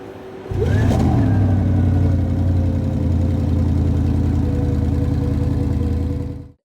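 A Koenigsegg Regera hypercar engine fires up with a sharp rev, then holds a loud, deep, steady roar for several seconds before cutting off abruptly.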